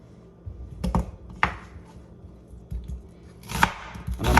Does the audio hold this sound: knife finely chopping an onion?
yes